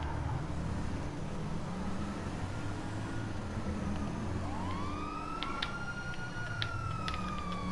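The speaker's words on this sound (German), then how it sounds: "Man weicht aus, wenn die Sirene von hinten ankommt." A police siren in GTA 5 rises and wails from behind in a busy game driving scene, its sweeping tone emerging in the second half over constant traffic and engine noise.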